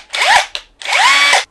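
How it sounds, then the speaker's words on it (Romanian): A cordless power drill whirs in two bursts, revving up with rising pitch, running a little under a second each time, then cutting off abruptly with short blips between. "Blocăm de aici de sus, bormașină normală."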